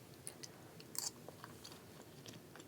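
Someone eating hot chocolate jello with cinnamon up close, with soft, quiet wet chewing and small mouth clicks in an irregular rhythm.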